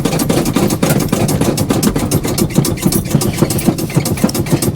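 An old engine fitted with a brand new accelerator pump runs steadily after firing up, a loud, rough, lumpy idle with a rapid repeating pulse throughout and no talk.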